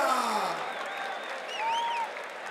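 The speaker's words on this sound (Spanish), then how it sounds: "aplauso para Colombia." Applause for Colombia at a Colombia vs Puerto Rico rap battle, dense clapping from the audience with a few whistles and shouts rising above it.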